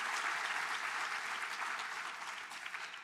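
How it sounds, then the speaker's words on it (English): An audience at an SOEC event breaks into a dense, sustained round of applause, loud and continuous from start to finish. "So, yeah, we can clap for that,"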